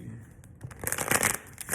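Oracle deck cards are shuffled by hand in a quick riffling burst, soft papery slaps and rustles building louder toward the end, close and alone.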